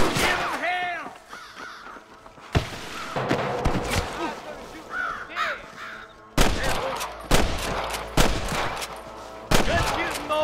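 Gunfire in the Wild West video game Red Dead Redemption: several loud, sharp shots burst out in the second half, mixed with shouting voices and crow-like cries throughout.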